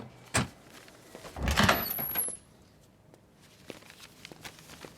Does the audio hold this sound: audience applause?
no